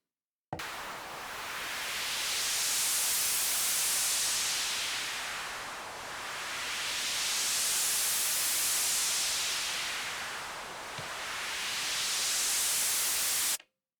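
A steady wash of synthesized hiss from an Elektron Analog Rytm drum machine, like broadband static, slowly swelling and dipping in brightness in a long sweeping cycle before cutting off.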